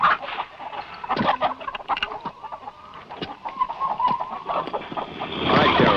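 Chickens cluck and squawk in a barnyard, many short, irregular calls overlapping at moderate distance, with a rising flurry of agitated noise near the end.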